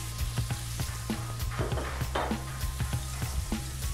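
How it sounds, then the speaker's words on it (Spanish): Garlic and tomato fry in a pan with olive oil, giving a steady close sizzle broken by light taps and scrapes of a utensil stirring. "Bajamos el fuego para que no se queme el ajo."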